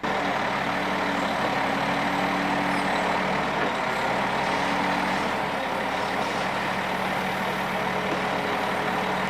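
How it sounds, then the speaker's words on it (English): A log loader with a massive crane arm works beside a timber truck, lifting bundles of logs onto the trailer. Its heavy diesel engine drones steadily and loudly throughout, with broad mechanical rumble and no talk. "A log loader equipped with a massive crane arm gets to work."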